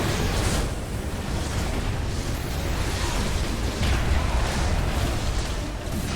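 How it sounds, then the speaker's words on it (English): Vacuum spell cast in Dota 2 Ability Arena, heard as a loud, sustained roaring whoosh of magical blast and rumble lasting several seconds with dense layered game effects and no speech. "There's a good vacuum."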